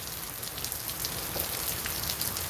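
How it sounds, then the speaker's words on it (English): Steady rain falls outdoors, a dense, even hiss of drops striking surfaces that continues without break, fairly loud and alone. "here comes the rain some more"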